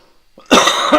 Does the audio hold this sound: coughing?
yes